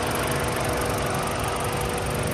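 A 2019 Kia Soluto's 1.4-litre four-cylinder engine idles with a steady, even hum and rumble, close and loud, unchanging throughout with no voices.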